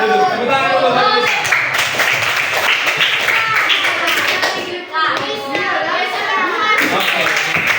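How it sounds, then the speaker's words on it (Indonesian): Schoolchildren in an Indonesian classroom clapping their hands in a quick burst of mixed, uneven claps, with children's voices chattering over and between the clapping. "Tepuk tangan dulu."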